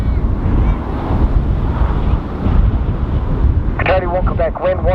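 Strong, gusty wind roars across an outdoor microphone at Dublin Airport as a steady loud rumble, with a radio voice breaking in near the end.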